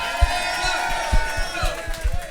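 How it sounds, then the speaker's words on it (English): A stand-up comedy audience claps along in a steady, regular rhythm, with crowd murmur and a sustained tone underneath. "Give us a clap."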